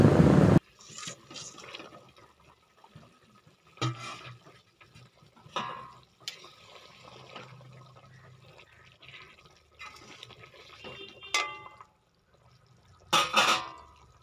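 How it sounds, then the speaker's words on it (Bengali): Water is poured into a pan of fried eggplant for a hilsa fish curry: a loud splashing gush at the start, then softer sizzling, bubbling and stirring clatter with a few sharper bursts, close by and without talk. "এবারে দিয়ে দিলাম যতটা পরিমাণ তোমরা ঝোল চাইবে সেই অনুযায়ী জল।"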